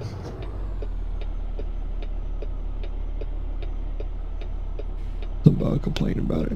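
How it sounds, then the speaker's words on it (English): Truck turn signal in American Truck Simulator ticking steadily and evenly, a soft clicking over a constant low engine drone, followed by a brief bump and muffled noise near the end. "put a blinker on"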